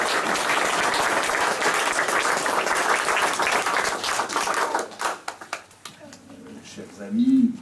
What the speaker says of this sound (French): Je crois franchement qu'on peut applaudir très très fort Yvette.